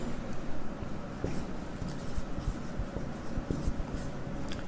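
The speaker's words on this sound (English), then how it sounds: "I am also writing on the board." Chalk or marker writing on a board in a Sanskrit class, a run of scratchy strokes and light taps in an irregular rhythm, close and continuous with no talk.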